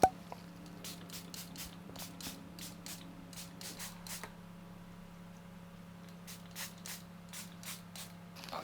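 A spray bottle misting the leaves of a Rhaphidophora hayi houseplant, a series of short sharp spritzes in quick bursts, close and moderately loud over a low steady hum.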